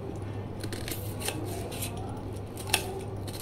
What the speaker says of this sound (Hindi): तो प्याज को हम बारीक बारीक काट लेंगे।